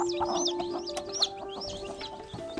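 A village hen with her freshly hatched chicks: high rapid peeping from the chicks overlaps a low steady clucking, all close by and continuous for a few seconds.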